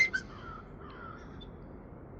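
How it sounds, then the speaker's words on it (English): A crow gives a couple of sharp caws at the start, then only quiet outdoor ambience follows. "here a crow."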